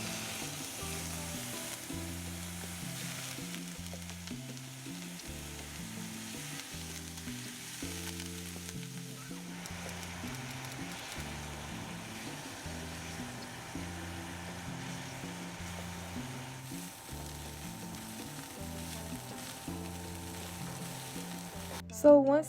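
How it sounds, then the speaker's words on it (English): Steak sizzles and crackles steadily in a hot pan for fajitas, a continuous close frying hiss, with soft music playing underneath and no talking. "the sizzling sound is so satisfying"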